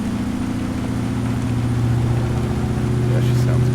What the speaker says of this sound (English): I do like the Jake sound on this engine